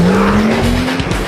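A car brakes hard on ceramic brakes while its tires squeal loudly, a rising tonal screech over engine and road roar, close and continuous.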